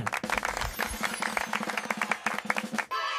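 Rhythmic clapping in a children's song about fruit and addition, a steady run of sharp claps over bright music from start to nearly the end, then a brief sustained tone.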